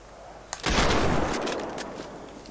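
In GTA V, close, loud gunshots are fired at a bear in the wilderness: a sharp opening crack, then a heavy burst of fire that trails off into a decaying rumble, with no voices.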